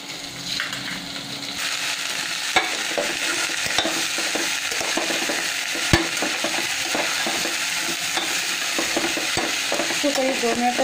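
Masoor dal fries in spiced masala as a spoon stirs it steadily, with a continuous sizzle under frequent scraping strokes and occasional sharp metallic clinks against the pan.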